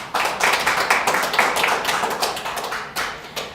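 A church congregation claps together during a New Year's Eve worship service, a dense, loud burst of many hands applauding steadily for several seconds before thinning out.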